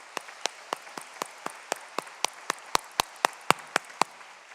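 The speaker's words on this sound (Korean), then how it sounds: "우리 하나님 경배와 박수 올려드리겠습니다." A church congregation claps together in worship at a Korean Holiness church service: crisp, evenly spaced claps in a steady unison rhythm, moderately quiet and heard alone.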